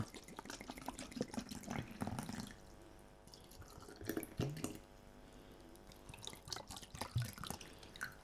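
Small splashes and drips as a little water is poured into cut-down Pepsi plastic bottles for planting, irregular close trickling and dripping with brief pauses.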